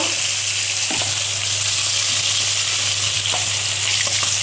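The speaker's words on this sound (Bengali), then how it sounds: "আমার মাছটা ভাজা হয়ে যাচ্ছে" Bhetki fish pieces frying in hot oil give a steady, close, broadband sizzle with faint scrapes of a utensil now and then, and no voices.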